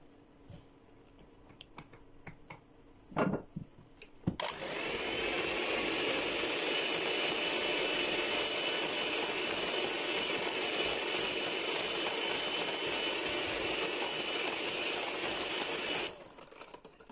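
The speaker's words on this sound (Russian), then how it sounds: "периодически останавливаю миксер и счищаю со стенок" An electric mixer whirs loudly and steadily for about twelve seconds, beating chocolate ganache cream for cake frosting under fondant, after a few faint clicks and knocks at the start, then cuts off.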